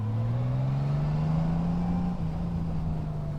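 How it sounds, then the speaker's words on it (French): Honda Goldwing bagger motorcycle with manual six-speed gearbox rumbling steadily under way, a deep continuous engine drone that rises slightly in pitch, loud and close with wind noise, no talk. "Oh là là, comme il gronde le moteur."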